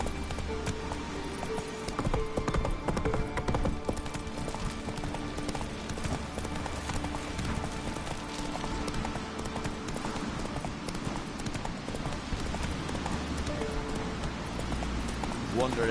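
Horse hooves clip-clopping steadily at a gallop in The Witcher 3, a continuous close rhythmic patter with light background ambience and a brief spoken word.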